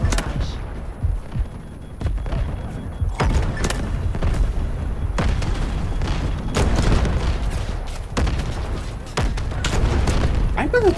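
Artillery barrage explosions from the video game Delta Force Hawk Ops, a dense run of loud booms and blasts under continuous gunfire, with voices talking over the chaotic battle.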